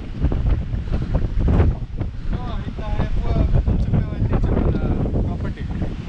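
Strong wind roars and buffets the microphone at a hilltop viewpoint by a Murugan temple at Vibhuthimalai near Masinagudi, a loud continuous rushing with gusty surges throughout and a faint voice partly buried beneath it.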